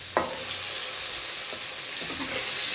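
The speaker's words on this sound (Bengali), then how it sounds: "বেগুন ফ্রাই হয়ে গেছে, একদম লাল করে ফ্রাই করে নিয়েছি।" Small whole eggplants fry in oil to a deep reddish-brown, making a steady close sizzle broken by a few light clinks and scrapes.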